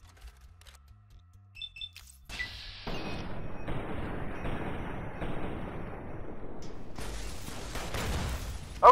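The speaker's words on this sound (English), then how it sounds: "Yeah, that was an incendiary grenade." An incendiary grenade goes off in Fallout New Vegas: after quiet ambient game noise, a sharp blast erupts into a sustained roaring, crackling burn that stays steady and fairly loud, with a brighter hissing surge near the end.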